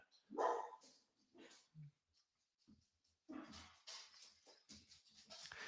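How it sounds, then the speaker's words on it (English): Dogs bark in several loud, uneven bursts spread across the stretch, with a brief whimper-like yip between them and no talk over the barking. "The dogs are going to go nuts."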